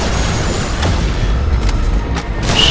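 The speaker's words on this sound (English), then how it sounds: "Eat a grenade." A grenade explosion in the shooter game Crysis 3 lands as a loud, deep boom with rumbling debris and scattered gunfire-like cracks trailing after it, with no speech.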